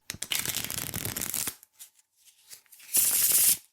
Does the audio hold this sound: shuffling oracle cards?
yes